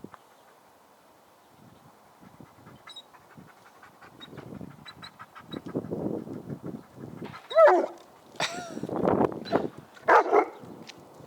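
Dogs in a leash-reactivity training session, starting with soft whimpering and panting, then building into several sharp barks and yelps in quick bursts, close and getting louder toward the end.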